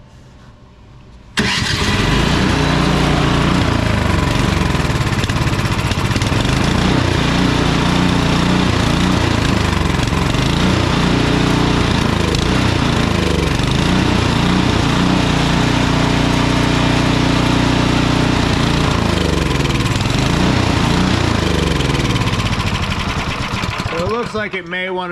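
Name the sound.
Husqvarna ST 230P snowblower engine running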